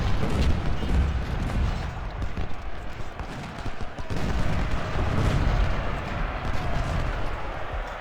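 Civil War artillery and musket fire rumble at the Battle of Shiloh in the game Ultimate General: Civil War, a continuous barrage of overlapping deep booms and crackling shots that stays loud throughout.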